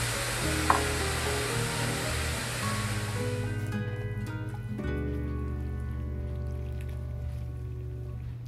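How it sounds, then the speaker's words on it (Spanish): Steady frying sizzle of beef in a pan with oil and salt, a dense crackling hiss that runs throughout, with low hum and a brief clink near the start. "Aquí en la sartén, voy a poner la carne."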